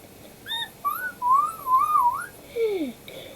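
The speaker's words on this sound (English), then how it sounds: "Show them how you can whistle." A person whistles a short wavering tune of several sliding notes, ending with a falling glide, fairly close and clear against a quiet background.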